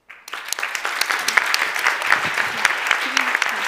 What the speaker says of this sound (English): I think this is worth a round of applause